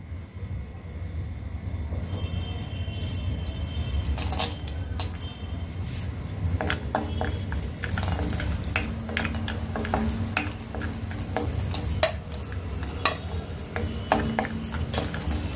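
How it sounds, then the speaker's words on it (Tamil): Cashews, almonds and raisins fry in melted ghee in a pan, giving a steady low sizzle with frequent close clinks and scrapes of a spoon against metal throughout. "நெய் உருகினதுக்கப்புறம் இதில் முந்திரி பருப்பு, பாதாம், கிஸ்மிஸ் இதை வறுத்து எடுத்துக்க போகிறேன்"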